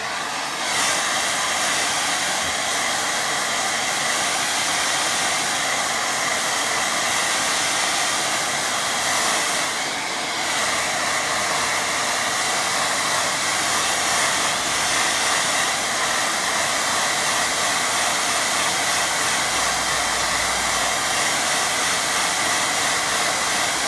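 A hair dryer drying watercolour paint blows steadily and loudly for the whole stretch, a constant breathy roar with no talking.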